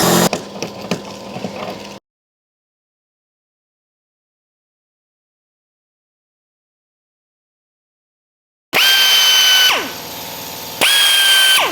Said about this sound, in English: And then we'll keep drilling with a 7/16,